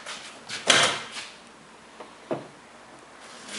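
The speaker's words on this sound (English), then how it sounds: "Could you open up them door jams again?" Door of a candy-painted Lincoln lowrider under restoration being opened in a shop, giving a sharp latch clunk followed by a softer second knock a moment later, close and alone with no talk.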